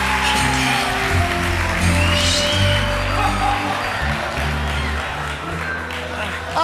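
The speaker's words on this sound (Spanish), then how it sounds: "Un aplauso por segundo" Studio audience applause on a talk show, steady clapping heard under and alongside music and talk, fairly loud throughout.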